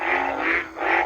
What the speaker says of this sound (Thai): นี่เสียงอึ่งห้องอยู่